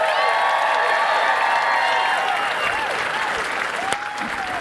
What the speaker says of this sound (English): round of applause, make some noise